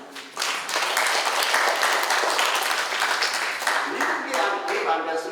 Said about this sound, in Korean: 미국에 한번 박수를 한번 보내주라.